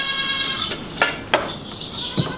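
A goat on a Northumberland fibre farm bleats at milking time, a long wavering call close by, followed by a few short clunks and knocks.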